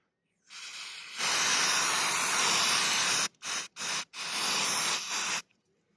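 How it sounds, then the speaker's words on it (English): Brake cleaner sprayed from an aerosol can onto a bicycle part: a long loud continuous hiss, then three short bursts, then a final sustained blast, close by. "I'm going to spray it a bit with brake cleaner and then add some turpentine"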